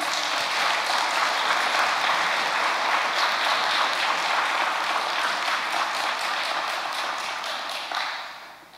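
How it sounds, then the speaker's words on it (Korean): A Korean church congregation gives a long round of thankful applause, loud and dense clapping from many people that continues steadily before tapering off in the final second. "큰 감사의 박수 올리도록 하겠습니다"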